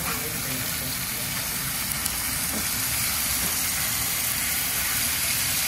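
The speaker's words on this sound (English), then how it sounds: "You see the sizzling sounds and the burning hot plate" Steady, loud hissing sizzle of shoulder loin steak searing on a hot plate, continuous throughout with no breaks.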